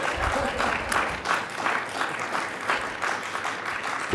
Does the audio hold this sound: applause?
yes